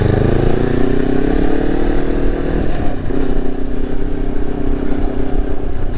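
A 2025 Morbidelli T252X motorcycle rides along with a close, steady engine drone, the pitch sliding down then settling and rising again as the throttle shifts, with wind rumble underneath.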